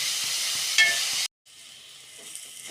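Onion, carrot and drumstick leaves sautéing in a pan give a steady close sizzle with soft stirring scrapes, then cut out briefly before a quieter, low sizzle resumes.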